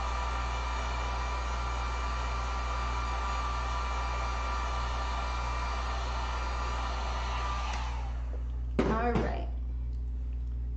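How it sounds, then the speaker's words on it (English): A heat gun dries acrylic paint on a painted apple sign with a steady blowing hum for about eight seconds, then cuts off and is followed by a single brief knock. "hit that real quick with the heat gun"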